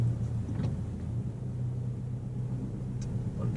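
A learner's car in a second driving lesson in Germany's Ruhr area pulls away gently in first gear, a steady low engine rumble heard from inside the cabin with no one talking.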